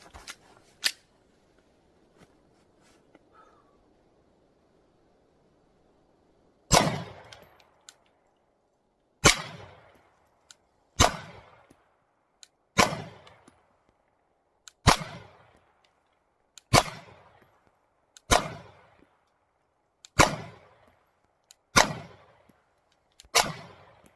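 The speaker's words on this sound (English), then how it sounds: "We're going to go ahead and shoot 13 rounds. at that paper target right there." A Fox Army FXV22 Pro pistol fires a steady string of sharp, loud shots at a paper target 10 yards away, about one every second and a half, each with a short ringing tail, after a quiet start.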